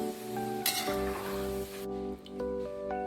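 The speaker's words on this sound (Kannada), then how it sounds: "ಇದು ಶೇಂಗಾ ಫ್ರೈ ಆಗ್ಯಾವ್ರೆ, ತಕ್ಕೋತೀವಿ." Peanuts fry in hot oil for Diwali chivda, a steady close sizzle broken by one sharp clank of a utensil against the pan and occasional stirring.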